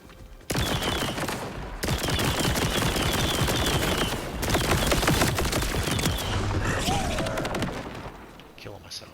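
Submachine gun fire in the video game Borderlands 4, dense rapid bursts of gunshots with crashes and impacts, sustained and loud for several seconds before tapering off.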